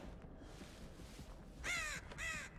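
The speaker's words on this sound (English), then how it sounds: "That damn crow scared the bejesus out of me." A crow in a horror video game gives two harsh, loud caws close by, breaking otherwise quiet game ambience.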